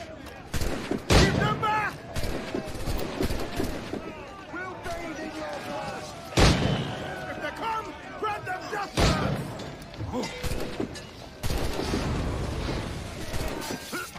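Gunfire in the pirate video game Assassin's Creed IV Black Flag, with loud sharp shots and bursts scattered over clashing combat sounds and shouted voices.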